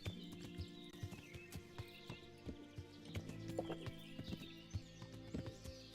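Steady hoofbeats of a horse trotting in the medieval video game Kingdom Come: Deliverance, a regular clip-clop rhythm at moderate distance over soft ambient background, with a faint neigh partway through and no talking.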